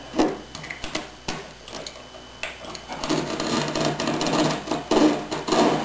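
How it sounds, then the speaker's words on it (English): A box knife trims cured, epoxy-wetted fiberglass cloth along a seam edge, short scraping and rasping cuts in irregular strokes that grow into a steadier gritty rasp, close and fairly loud with no talk. "we're going to take our box knife out and"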